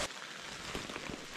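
Steady rain falls at a deer hunting camp with a canvas tent, a close, even hiss of drops with a few louder patters, and no voices.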